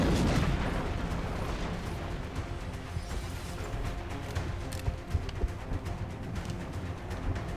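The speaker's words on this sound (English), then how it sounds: "Firing rocket." A rocket launch in XCOM Long War: a loud blast at the start, then a rumbling roar and scattered crackling impacts that fade slowly.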